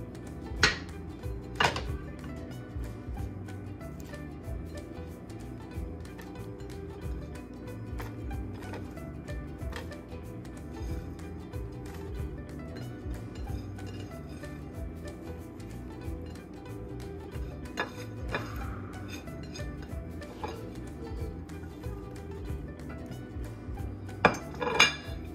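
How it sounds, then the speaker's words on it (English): A spoon knocks and scrapes around a bowl as chopped vegetables are mixed for a stuffed omelette, continuous soft clinking and stirring with occasional sharper taps, close, with a steady hum behind it and no speech. "I will mix all these veggies."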